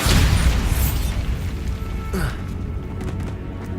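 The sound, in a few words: Bombarda blasting spell explosion in Hogwarts Legacy video game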